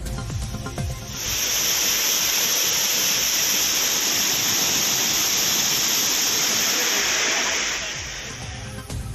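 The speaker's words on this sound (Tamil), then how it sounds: "குற்றால அருவிகளில் மீண்டும் ஆர்ப்பரிக்கும் வெள்ளம்" Courtallam waterfalls surge with floodwater in a loud, dense roar that swells in quickly after a second and holds steady and powerful before easing off near the end.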